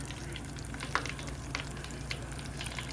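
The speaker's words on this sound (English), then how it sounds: "Then I take that fillet and drop it into the grease" A breaded rock cod fillet fries in hot grease, giving a steady, close sizzle with a few light pops and crackles over three seconds, with no voices.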